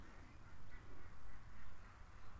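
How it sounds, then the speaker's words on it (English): Ducks quack near a lake, faint and somewhat distant, their calls half buried in steady outdoor background noise. "probably all the ducks have left the garden area and they've come out to the lake"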